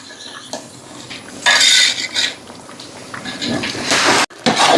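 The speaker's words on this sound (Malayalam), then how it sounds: "അരി തിളക്കട്ടെ. നല്ല ഇളക്കി കൊടുക്കട്ടാ." A spoon stirs rice in a pot of boiling water for vegetable biryani, with close metallic scrapes and clinks against the pot, irregular sloshing, and a few louder knocks.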